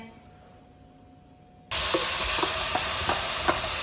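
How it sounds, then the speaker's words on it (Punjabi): A vegetable curry gets its tadka in a kadai: after a quiet moment, hot oil bursts into a loud, steady sizzle with faint stirring scrapes, close up and unbroken to the end. "ਚਲੋ ਜੀ ਹੁਣ ਲਾ ਦਈਏ ਆਪਾਂ ਸਬਜ਼ੀ ਨੂੰ ਤੜਕਾ"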